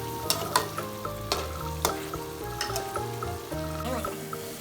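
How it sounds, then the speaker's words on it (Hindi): Tomato masala for mutton bhuna stirring and frying in a kadai, a steady sizzle broken by sharp scrapes and knocks of a spoon against the pan, close and fairly loud with no talking. "भुनाई करते हुए चम्मच चलाते रहेंगे ताकि मसाला कढ़ाई के साथ"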